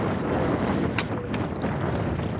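Strong wind gusting over open water during net fishing for shrimp and crabs after a typhoon, a steady loud rumbling buffet across the whole stretch with broadband wind noise and no talk.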